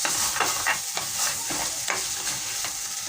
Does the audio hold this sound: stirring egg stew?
yes